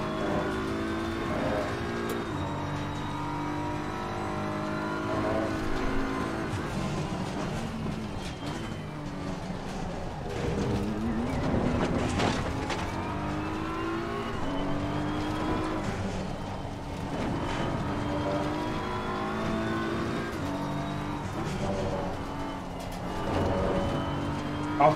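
A race car engine in Assetto Corsa Competizione drones steadily throughout, rising and falling in pitch as the car accelerates and shifts, loud and continuous with no talk.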